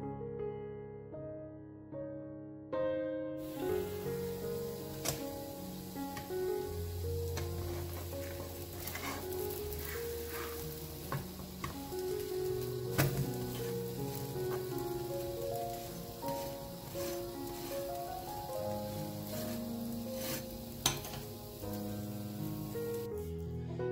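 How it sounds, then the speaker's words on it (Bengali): Mung dal pancake batter sizzles in hot oil in a pan, a continuous crackling hiss that runs steadily throughout, with scattered pops and faint background music. "ওই মিশ্রণটা তেলের মধ্যে দিয়ে দিচ্ছি"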